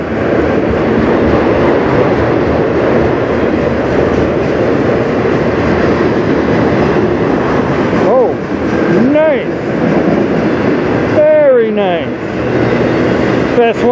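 A graffiti-covered CN freight train rolls past on the Strathroy Subdivision with a loud, steady rumble and clatter of cars for the full stretch, while voices talk and exclaim over it in the later seconds.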